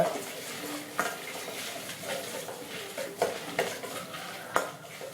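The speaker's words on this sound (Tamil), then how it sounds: "தனியா, மிளகாய் போட்டு நம்ம இதை கொஞ்சம் வாசனை வர அளவுக்கு வறுத்துக்கணுங்க" Coriander seeds and dried chillies dry-roasting in a pan with dal for a brinjal tamarind curry, a soft crackle broken by sharp scrapes and taps of a stirring spoon against the pan.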